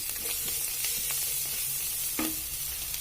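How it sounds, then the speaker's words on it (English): Coriander powder fries and is stirred in a pan, producing a steady close sizzle with a few quick scraping strokes of a spoon and no speech. "coriander powder. Give it a quick stir. Let it fry well."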